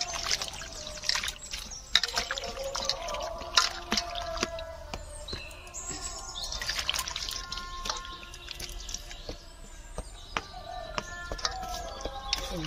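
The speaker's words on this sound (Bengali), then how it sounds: "আনাজটা ধুয়ে নেবো।" Vegetables being rinsed in water, with steady dripping, trickling and splashing close by, punctuated by small knocks and clatters, with birdsong faintly in the background.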